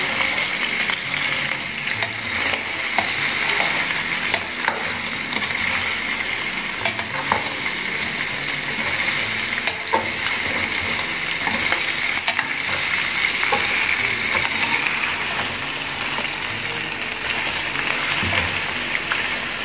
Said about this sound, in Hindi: इस फ्लेम पे अब आपने इनको चांपों को 2 मिनट तक भूनना है